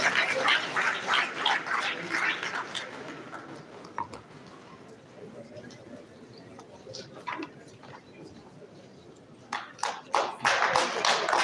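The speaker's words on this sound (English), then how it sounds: "Please, a round of applause once again for the BBC" Audience clapping at a university reward and recognition ceremony comes in dense bursts at the start and again near the end, thinning to scattered claps and murmuring in between.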